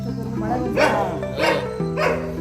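A dog barks three times at an even pace, close by, in a city park, with a low hum in the background.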